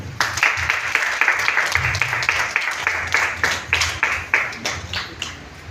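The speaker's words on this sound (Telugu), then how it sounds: "చప్పట్లు కొట్టు" Audience clapping hands at the opening of a Christian book exhibition, a steady round of close, rhythmic applause lasting throughout with some faint voices beneath.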